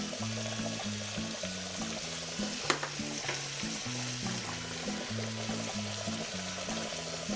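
Garlic and spices fry in a pan with a steady close sizzle, stirred now and then, while a repeating melodic tune plays underneath throughout.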